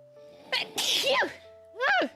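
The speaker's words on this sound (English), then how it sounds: "That was a really weird sneeze." A single sudden sneeze indoors, sharp and close, followed by a short second burst, with a faint steady tone in the background.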